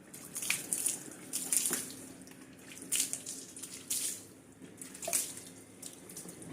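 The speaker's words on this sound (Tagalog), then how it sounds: "babasahin natin ng tubig, isi-simulate natin na parang nadaan siya sa ulan" Water splashes and trickles onto a car tire in uneven bursts, like rain striking it, close by and fairly soft, with no talking.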